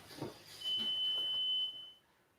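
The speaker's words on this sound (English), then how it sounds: "that beep means my washing machine is finished" A washing machine's single steady electronic finished beep holds for about a second, clear and fairly close, after a brief muffled sound.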